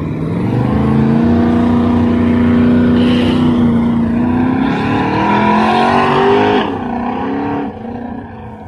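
A Chevy S10 pickup truck revs hard during a burnout competition, its engine roaring loud and close with a rising, sustained note that climbs in pitch before easing off near the end.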